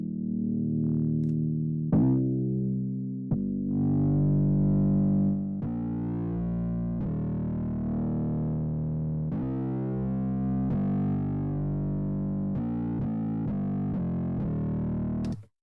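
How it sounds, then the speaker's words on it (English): Heavily distorted 808 bass notes, driven through Logic's stock distortion, play in a repeating sequence, thick and buzzing with dense harmonics, each note sustaining before the next hits. "let's just use a stock Logic distortion"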